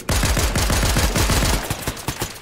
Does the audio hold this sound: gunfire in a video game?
yes